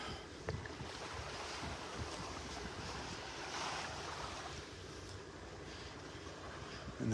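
Gulf of Mexico waves wash steadily onto the beach at North Naples, Florida, a continuous broadband surf roar with wind buffeting the microphone.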